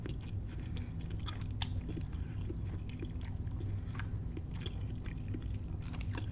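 Close, steady chewing of shrimp salad: soft, wet mastication with faint crunches, continuous and quiet, no talking.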